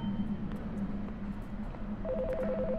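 A phone rings inside the video game Until Then, a steady warbling electronic tone that starts partway through over a low background hum, moderately loud with no talking.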